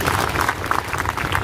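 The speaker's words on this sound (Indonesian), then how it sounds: "Ya, tepuk tangan untuk Ibu Sri Widarnani." Audience applause at a closing assembly ceremony for civil service trainees at a provincial training agency, a steady dense clapping that fills the whole short moment at moderate loudness.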